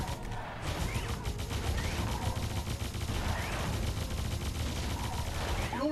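A gun tower in the Defense Grid 2 tower-defense game fires continuously, producing a dense, steady rattle of rapid shots with mechanical clanks that keeps going for the whole stretch at moderate volume.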